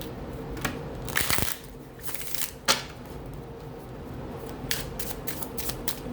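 Romance Angel oracle cards being handled and shuffled, giving repeated soft papery riffles and flicks with a couple of louder bursts, close and fairly quiet with no talking.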